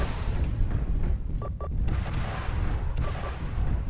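Mech weapons fire in the MechWarrior Living Legends game, with heavy, rumbling booms and blasts rolling one into another, loud and dense with a couple of sharper cracks mid-clip.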